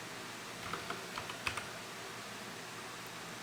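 Light typing on a computer keyboard, a short run of soft, quick key clicks close by, then quiet, with no voices.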